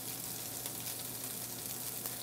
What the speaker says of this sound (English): we're getting our pan hot over here, okay, a little bit of oil, and we're going to sear this